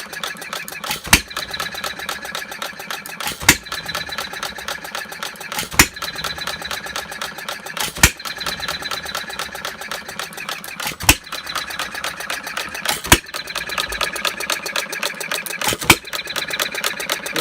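A half-scale Breisch Olds hit-and-miss gas model engine runs with sharp firing pops spaced about every two to three seconds, separated by a softer mechanical clatter of coasting, close and fairly quiet.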